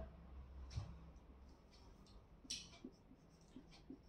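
A pen or pencil writes by hand during a lesson, giving faint scratchy strokes and light taps in short bursts across a quiet room.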